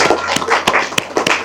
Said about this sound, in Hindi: सभी लोग ताली बजाते हैं